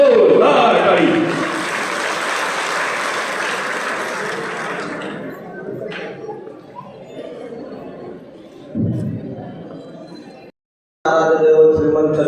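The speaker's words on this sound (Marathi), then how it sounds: "दोन्ही हात वरती, जोरदार टाळी" Loud crowd applause at a BJP political gathering in Masur, Maharashtra, with hands raised, sustained for several seconds before thinning out, followed by a brief pause and a short renewed burst.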